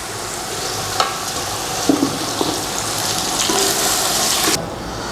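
Roughly 1.5 kg of chicken added to a pot for white chicken pulao, sizzling with a loud steady hiss, sharp crackles and occasional stirring clatter, ending abruptly.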